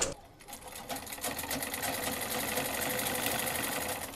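A sewing machine stitches salwar fabric with a rapid, even run of stitches that continues close up for the whole stretch, and no talk is heard.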